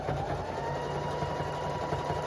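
A sewing machine zigzag-stitches a jellyroll fabric rug, running backwards in a steady, continuous mechanical whir with a fast rhythmic hum, close and even throughout, with no voices.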